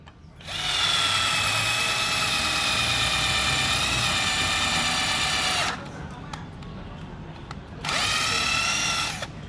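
A New Bolic 59 V cordless drill whines steadily at high speed boring into hardwood for several seconds, stops briefly, then starts up again, loud and close with faint background noise.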